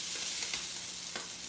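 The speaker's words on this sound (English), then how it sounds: "Okay, that is coming up to sizzle." Food sizzles steadily in a frying pan seasoned with cumin, chili powder and Tabasco, a soft continuous hiss with a few faint stirring scrapes, close and without talk.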